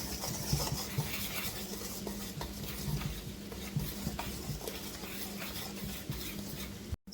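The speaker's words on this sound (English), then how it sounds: "I'm going to whisk this together." A whisk stirring cornmeal, baking soda and baking powder in a bowl, a quiet continuous rapid scraping and tapping against the bowl that stops abruptly at the end.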